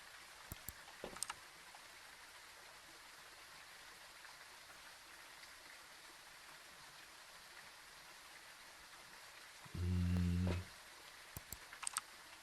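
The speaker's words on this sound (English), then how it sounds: "It's raining." Steady hiss of rain in a video game, constant and even throughout, with a brief low electronic hum near the end and a few faint clicks.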